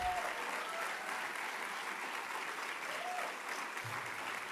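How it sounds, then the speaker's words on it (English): Applause at a 2022 special convocation celebrates the conferral of an honorary doctorate: a continuous, even wash of clapping from a crowd, heard fairly faint and distant without a break. "Let us celebrate this moment with a huge round of applause"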